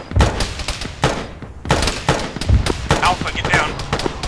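Incoming rocket impacts land in a series of heavy, close blasts with sharp cracks and rumbling tails, while someone shouts a brief command over them.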